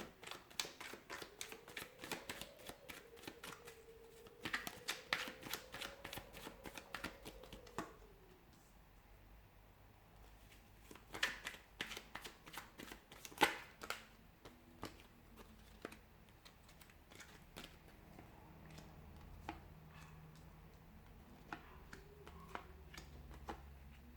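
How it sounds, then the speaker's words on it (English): Tarot cards shuffled by hand in repeated bursts of crisp riffling and flicking, fairly close, with pauses of quieter handling between bursts and a faint voice now and then in the background. "We'll give the cards a shuffle"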